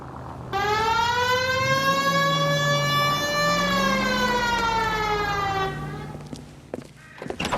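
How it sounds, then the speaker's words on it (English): A loud police siren in the video game L.A. Noire wails steadily and continuously for several seconds, then cuts off, leaving quieter background noise with a few faint knocks. "Hit the siren."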